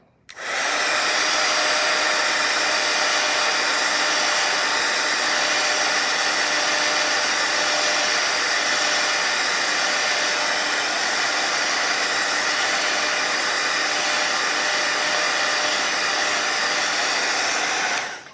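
A hair dryer blowing on a watercolor painting to dry a layer of orange before glazing, a loud steady whirring roar that starts suddenly, runs unbroken for about eighteen seconds, then cuts off.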